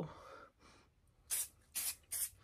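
Power Stick body spray from an aerosol can, fired in three short hissing bursts, each about a quarter second long and fairly close, after a quieter rustle at the start.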